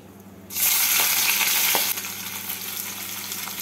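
Onions dropped into hot oil after a tempering of dried red chilli and five-spice, bursting into a loud sizzle, then settling into a steady, slightly softer frying hiss close by, with no voices.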